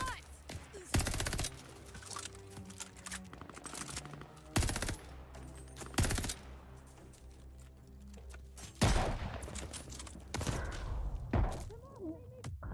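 Gun bursts from the video game Call of Duty: Vanguard go off in several loud, separate volleys over a low background rumble.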